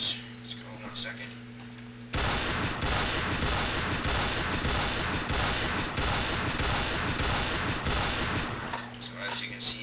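A Ruger Gunsite Scout rifle in the Combat Arms video game fires a long, dense burst of rapid shots lasting several seconds, loud and continuous, framed by quieter game hum before and after.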